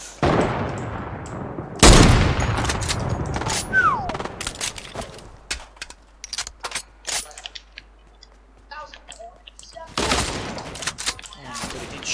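Gunfire in the Fortnite video game, a burst of sharp shots near the start followed by scattered single cracks and another loud burst near the end, with a voice talking in between.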